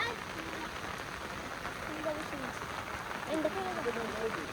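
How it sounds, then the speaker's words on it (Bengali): Rain falls steadily on surfaces outdoors during village fishing, a soft continuous patter with people talking faintly over it. "বৃষ্টি আরো জোরে জোরে আসছে"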